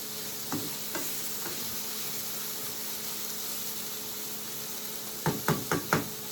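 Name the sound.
smoked bacon fat crisping and sizzling in pan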